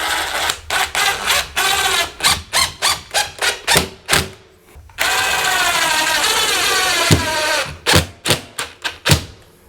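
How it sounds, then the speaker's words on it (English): A power drill driving screws into ceiling drywall, loud close bursts of whining motor in rapid stop-start pulses with one longer sustained run in the middle, then more short bursts. "pop in a few extra screws on each side here just to make sure everything is really secure"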